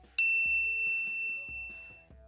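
A bright notification bell rings once with a clear metallic ding that rings on and fades slowly, over a soft low rhythmic background beat.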